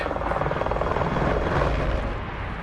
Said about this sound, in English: they had helicopters with stuff hanging underneath